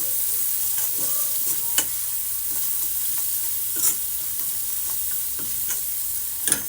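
Bitter gourd masala sautés over a low flame with a continuous soft frying sizzle, punctuated by intermittent spoon scrapes and taps against the pan, without speech.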